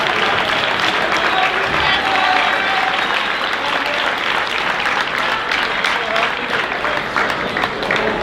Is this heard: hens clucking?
no